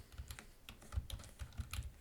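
Code is typed on a computer keyboard in quick, uneven bursts of soft key clicks, close and fairly quiet, with no voice over them.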